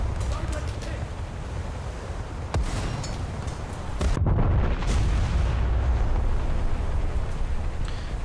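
Secondary guns on the warship HMS Barham boom in a naval video game, heavy blasts over a constant rumbling roar of engine and sea, with a sharper burst midway, and a voice talks over it.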